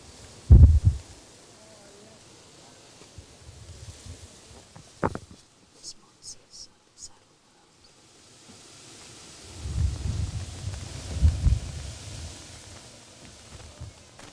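Gusty wind buffets the microphone at an outdoor dressage show during a Grand Prix, rumbling in loud swells near the start and again toward the end, with a few faint clicks in the quieter middle.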